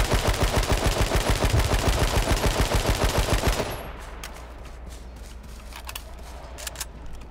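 AK rifle fire in a video game: a rapid, loud, close stream of automatic shots lasting several seconds, then cutting off to quieter ambient noise with a few faint clicks.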